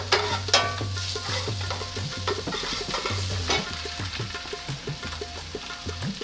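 Onions and cumin sizzle in a hot pan with garlic-ginger paste stirred in, for Punjabi-style rajma, giving a busy crackling fry with scraping stir strokes and small pops throughout, moderately close, with no speech.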